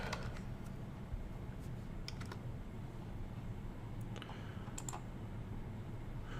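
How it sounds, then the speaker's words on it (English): Typing on a computer keyboard while entering a number into a software box, producing scattered light key clicks over a steady low hum, with no talking. "click down in this box and type in the number 1060"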